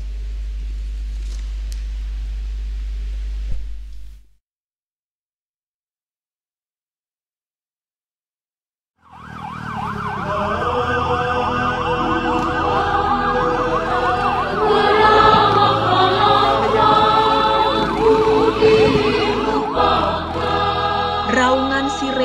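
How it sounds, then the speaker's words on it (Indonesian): A wailing siren rises and falls over layered music after a short low rumble and several seconds of silence, sustained and fairly loud. "Raungan sirene mengejar waktu"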